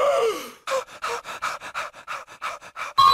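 Cartoon dog panting in quick, rhythmic bursts, about a dozen short breathy pants in a row, close and clear with no talking over them.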